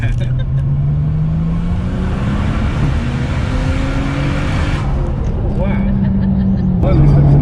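A widebody Nissan Skyline R33 engine drones loudly and continuously, its pitch climbing as it pulls into high revs, with an abrupt drop near the end.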